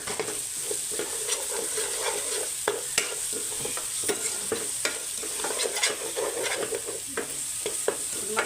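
Spices stirred into fish masala frying in a pan, a steady sizzle with repeated scraping strokes of the spoon, close and continuous with no talking.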